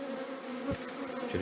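Honeybees at the hive buzz in a dense, steady drone, close and continuous with a few louder passes.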